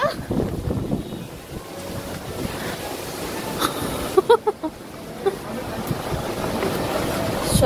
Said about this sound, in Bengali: ভালোই বাতাস হচ্ছে